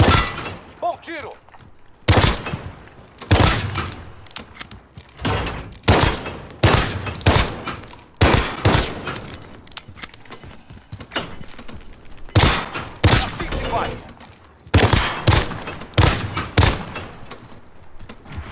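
Bursts of gunfire in Call of Duty: Modern Warfare crack out repeatedly, loud and close, in irregular volleys with short gaps between them over a background of game noise.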